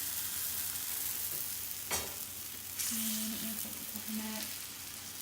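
A sweet potato tortilla cooks on a hot, smoking skillet with a steady, close sizzle and a few soft knocks and scrapes.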